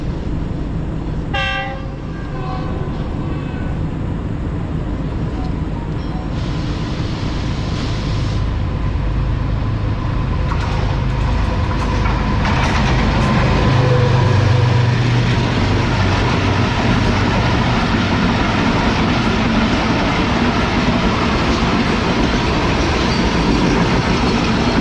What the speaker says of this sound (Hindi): तो ये आ गई ट्रेन हमारे सामने से GU20 के साथ।